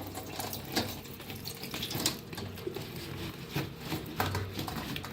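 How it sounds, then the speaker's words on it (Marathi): Salted raw mango pieces for pickle are poured into a colander over a basket, with water draining through in a steady close patter and splash. "तर हे सगळं आंब ह्याच्यात ओतूया।"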